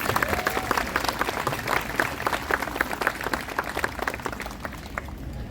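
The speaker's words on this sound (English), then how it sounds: "She's starting to get more applause than I get when I go places" Steady applause from an outdoor crowd at the Mountain Grove Heritage Festival in Missouri, greeting the First Lady: many hands clapping in a fairly even, mid-distance patter that holds for several seconds, then eases slightly.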